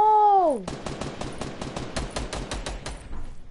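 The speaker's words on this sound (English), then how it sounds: "Why are you shooting me?" Rapid automatic gunfire in a video game: a quick run of sharp, evenly spaced shots that carries on for about three seconds, led in by a brief falling tone.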